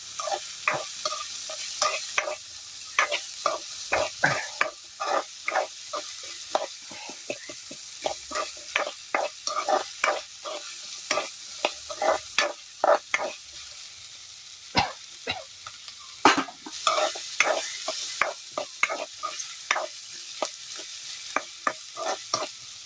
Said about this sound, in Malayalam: ഒപ്പം പച്ചമുളക് ഇട്ട് കൊടുക്കുന്നു. നമുക്കൊന്ന് വഴറ്റിയെടുക്കാം